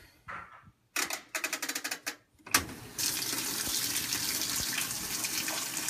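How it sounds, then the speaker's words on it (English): A top-loading washing machine fills with water for a load of laundry, starting with a quick series of mechanical clicks and knob turns, then water rushing in as a loud, steady hiss and splash. "Get the water rolling before I add some clothes to it, just to get it mixed up."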